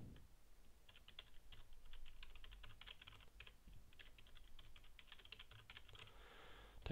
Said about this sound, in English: Type in the password, so that's going to be the account that we'll be using.